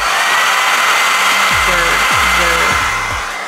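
A hair dryer on medium heat gives a loud, steady whooshing rush of air throughout, while a voice briefly speaks underneath near the middle.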